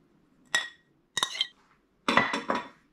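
Egg yolk being mixed into rice in a pan, heard as a few separate utensil clinks and scrapes against the pan, close and clear with short pauses between them.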